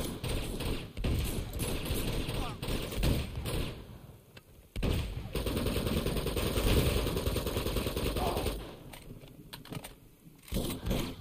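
Rapid gunfire during a firefight in the video game Uncharted 2: Among Thieves, dense bursts of shots nearly throughout with a short lull partway, loud and close against a busy game soundscape.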